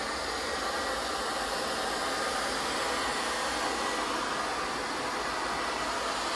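Hair blow dryer running on high during ponytail styling, a steady, loud, unbroken airy whoosh with a low motor hum underneath, heard alone with no voices.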